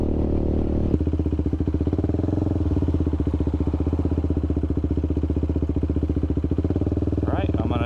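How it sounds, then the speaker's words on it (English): Motorcycle engine running steadily while riding, a continuous throbbing drone with rapid pulsing firing beats and wind rush blended in, loud and close throughout. "with some wind noise and the bike running, hopefully it sounds pretty good"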